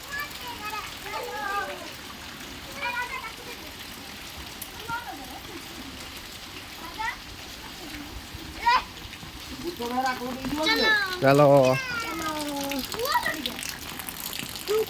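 Heavy rain falls in a steady, hissing wash throughout, with children's voices talking and calling over it.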